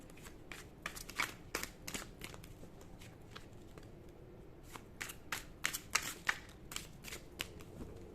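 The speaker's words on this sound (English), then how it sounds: "I want to pull one more card" Tarot cards are shuffled by hand in quick crisp riffles and slides, in short irregular bursts close up and fairly quiet, with no voices.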